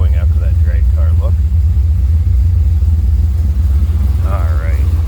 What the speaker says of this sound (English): Hear that 383, it's got a nice rumble coming out of it.